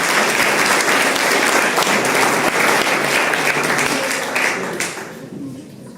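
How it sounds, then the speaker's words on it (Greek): Audience applause at a Greek sports club's annual pita-cutting event, steady and loud for about five seconds before thinning out toward the end. "Παρακαλώ, το χειροκρότημά σας."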